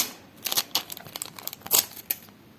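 A crinkly paper surprise packet is opened close up, with sharp crackling and rustling bursts in an irregular rhythm, the loudest crumple near the end, and no talk.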